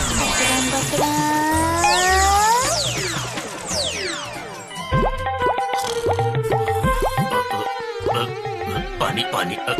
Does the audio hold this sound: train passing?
no